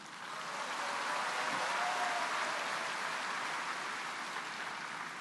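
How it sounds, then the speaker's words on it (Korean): Large audience applauding at a Korean political party national convention for the party leader and supreme council candidates, a broad, steady wash of clapping that swells and holds throughout. "당 대표와 최고위원 후보 여러분께 뜨거운 박수를 보내드리며"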